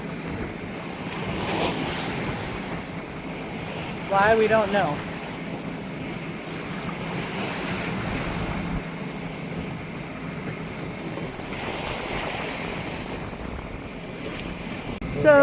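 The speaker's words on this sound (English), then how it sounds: "We're attacking the waves because, yeah, it's not pretty out here." Rough sea waves slap and rush against a sailboat near Percé Rock, with steady wind buffeting the microphone and louder surges now and then, while a person speaks briefly.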